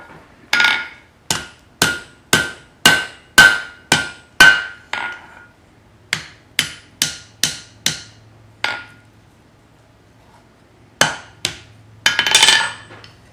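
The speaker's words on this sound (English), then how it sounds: "focus our hammer blows up in here and bend it back" Hammer striking heated steel tong jaws on an anvil during bending, a close, loud series of evenly spaced ringing blows with short pauses, ending in a few more strikes.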